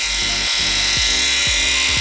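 Krauss Eco 7 Nano cordless battery polisher running steadily on setting A, a continuous close motor whine with a low pulsing drone cycling roughly every half second.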